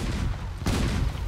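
Charged shots fire from airship cannons in the Guns of Icarus game in a rapid volley of dull, rumbling booms, with a sharper blast landing partway through the short burst.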